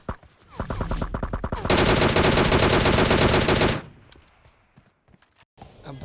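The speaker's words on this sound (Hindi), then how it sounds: "अब देखना मेरे को पीछे से मतलब कोई शूट करता है।" In PUBG Mobile Lite, gunfire erupts from behind the player near a UAZ vehicle: scattered close shots build into a long, loud burst of continuous automatic fire, then cut off and leave quieter scattered game sounds.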